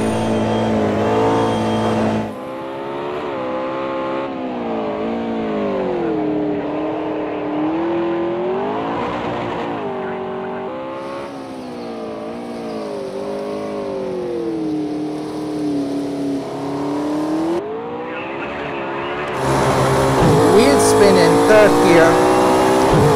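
McLaren P1 hypercar engine in the racing game Project Cars 2, revving and climbing through the gears with a loud, continuous harmonic drone that rises and dips, ending in a harsher full-throttle surge.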